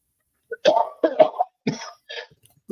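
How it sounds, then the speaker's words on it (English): A person coughs several times in quick harsh bursts, close and fairly loud, with short pauses between them. "He's coughing his lungs out."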